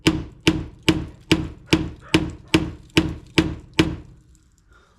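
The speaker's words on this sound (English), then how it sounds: "hit it with a hammer. That will sometimes loosen them up." Hammer striking the side trim on a classic Chevelle to loosen it: ten sharp, evenly spaced metallic whacks about half a second apart, close and loud, with no talking.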